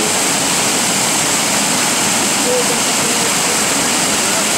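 Water from a water main rushes out hard during unidirectional flushing, a loud, constant, close roar that stays steady throughout like a waterfall.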